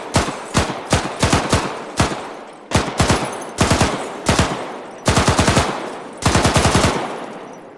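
PKP Pecheneg machine gun in the Arma 3 game firing repeated short bursts of sharp, loud, closely spaced shots, each burst separated by brief pauses, with no voices over the gunfire.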